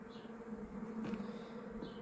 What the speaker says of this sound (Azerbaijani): qışdan çıxan arıdır